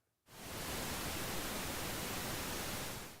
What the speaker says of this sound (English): Pink noise has equal energy per octave.